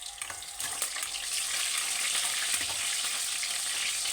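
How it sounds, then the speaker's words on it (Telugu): Onions frying in a pan for a Telangana bitter gourd fry, a steady dense sizzle with brief stirring scrapes near the start, close and continuous. "ఇలా ఉల్లిగడ్డలు వేయించుకోవాలి"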